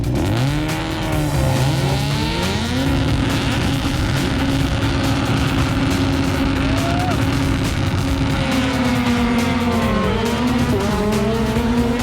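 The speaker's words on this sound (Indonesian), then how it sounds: "Jadi kebayangkan mobil berkekuatan 600 horsepower dilepas bareng-bareng" Several 600-horsepower rallycross race cars launch together at an ARX event in St. Louis, engines roaring loud and continuous with rising revs and tire squeal over twelve seconds, no talk.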